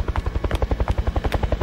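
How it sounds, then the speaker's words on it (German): A helicopter lands in a circular inner courtyard, its rotor thumping in a fast, steady, loud rhythm close by, with no voices over it. "Im kreisförmigen Innenhof landete ein Helikopter."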